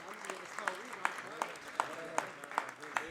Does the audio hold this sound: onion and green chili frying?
no